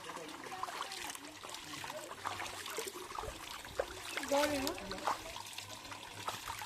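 Cold stream water flowing and splashing nearby in a steady trickle, with a louder splash midway and people talking over it.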